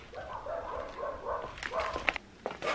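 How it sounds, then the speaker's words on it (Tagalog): A dog barks and yips faintly indoors, short tonal calls at first and then a few sharper barks, sounding somewhat distant and quiet. "Itong aso, pag may marinig talaga."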